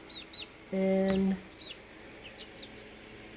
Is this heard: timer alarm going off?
no